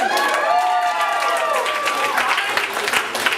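Audience applause and cheering at a live improv comedy show, dense clapping with whoops and shouting voices sustained throughout, loud and close.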